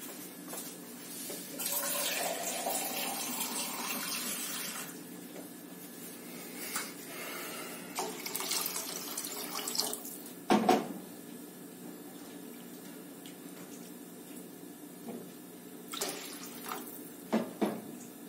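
Water is poured and splashed into a pot of rice while cooking in a home kitchen, a soft running pour followed by clinks and small splashes, fairly quiet and close.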